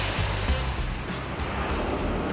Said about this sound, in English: This is a pasta factory, and all these machines mean it's very noisy.